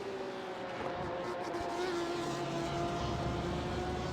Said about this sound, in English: That the Porsche is absolutely screaming, isn't it? It's a lovely sound.